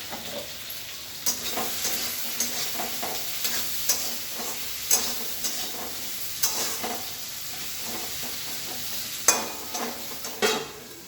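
Steady sizzling of potatoes frying in a pan, with repeated clinks and scrapes of a utensil stirring throughout.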